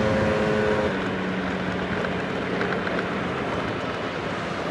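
Motorcycle riding through traffic, a steady broadband roar of engine and wind noise, loud and continuous, with a faint tone fading early on.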